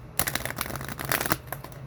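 Close, quick riffling of a deck of cards being shuffled, a rapid flutter of crisp little snaps.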